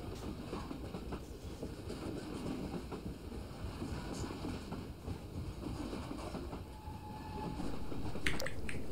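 A train ride in the video game Half-Life 2: Episode Two: a steady rumbling rail carriage with rhythmic clickety-clack of wheels and a faint tonal squeal near the end, continuous and without talk.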